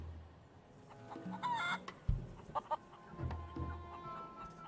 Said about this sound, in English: Plunder Island feral chicken